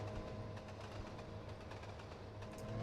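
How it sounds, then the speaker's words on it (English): A New York Central locomotive pulling passenger coaches past in the Trainz Simulator 2 game. The engine makes a low, continuous rumble with a steady mechanical hum. It is faint and even throughout, and no one speaks. "it's a New York Central locomotive pulling coaches"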